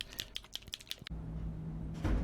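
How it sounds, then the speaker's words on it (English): Ball bearing rattling inside a shaken model paint bottle: a quick run of sharp, close clicks, then a quieter stretch of faint handling noise with a low hum, no talking. "That's the sound of a ball bearing."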